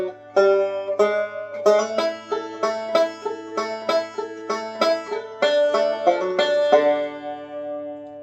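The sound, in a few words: banjo playing the 4 chord backup in D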